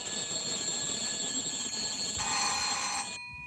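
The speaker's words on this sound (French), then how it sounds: "je le sais, c'est la sonnette." Doorbell ringing with a sustained bright electric bell tone, a second higher chime layering in near the end before it cuts off abruptly; no talking.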